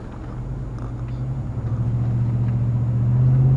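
A 2001 Dodge Durango R/T SUV drives along curving roads, its engine a low steady rumble under the cabin that slowly builds in loudness, with faint road noise and no voices.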